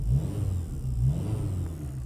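Engine of a VW Golf 4 R32 with an alternator-related fault, revved while idling, giving a steady close mid-low drone with a faint high whine running above it, alone and without voices.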